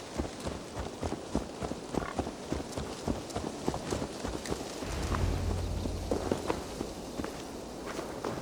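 Horse hooves clip-clop at a steady walking rhythm in Assassin's Creed Valhalla, fairly close, with a brief low rumble swelling underneath midway through.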